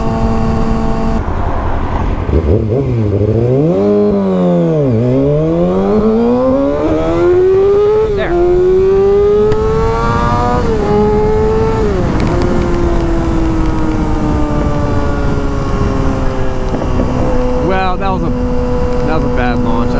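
Kawasaki Ninja 636 sportbike at full throttle in a 0 to 60 run, engine screaming loud and close, revs climbing and dropping through repeated gear changes, a steady roaring wail throughout.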